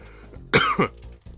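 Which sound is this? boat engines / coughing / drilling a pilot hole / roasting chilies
coughing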